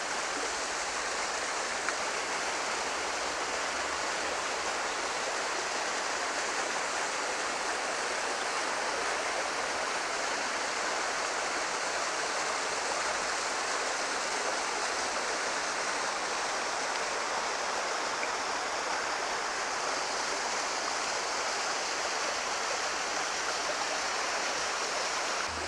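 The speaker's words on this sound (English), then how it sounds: "Just something about a waterfall." Cataract Falls in the Great Smoky Mountains rushes steadily, a constant, broad roar of falling water heard alone without voices.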